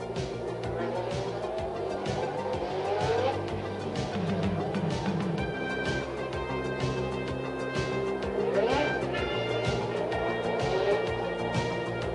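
Formula One race cars drone on a parade lap at the Montreal Grand Prix, a wet circuit drying out, their engines forming a steady layered whine that rises and falls as cars pass at a moderate distance.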